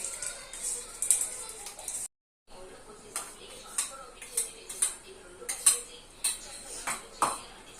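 Chicken biryani ingredients being stirred in a pot, with a series of faint metallic spoon clinks and scrapes against the vessel and a brief silent gap partway through.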